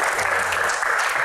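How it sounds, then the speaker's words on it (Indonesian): Dense, steady applause from a large audience, loud and continuous throughout with no pauses. "tepuk tangan dong buat Mbak Anggun."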